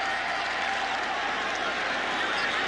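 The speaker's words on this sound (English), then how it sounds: "the crowd very loud thus far as Stojanovic will kick off" A packed Kingdome stadium crowd roars before kickoff of a 1997 NFL game between the Kansas City Chiefs and Seattle Seahawks, a dense, steady wall of cheering noise with no break.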